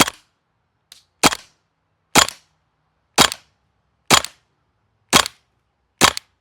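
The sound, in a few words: airsoft MP7 gun firing BBs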